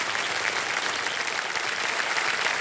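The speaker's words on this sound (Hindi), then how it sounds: "एक बार फिर जोरदार तालियां बन जाए इनके लिए।" A studio audience on the Indian quiz show Kaun Banega Crorepati claps steadily, producing a dense, even wash of loud applause with no break from start to finish.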